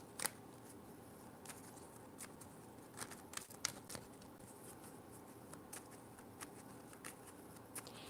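Tarot cards are shuffled by hand, a quiet run of soft riffling snaps and shuffles in irregular bursts over faint background hiss.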